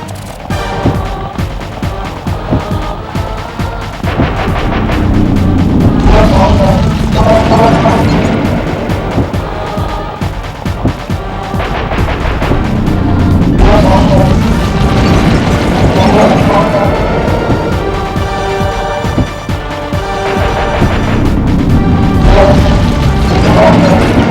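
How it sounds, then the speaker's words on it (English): Missile explosions and crashes in a Sly Cooper boss fight, loud repeated impacts and booms layered over busy game music and mechanical clatter throughout. "My missiles don't hurt him but seem to create holes in his armor."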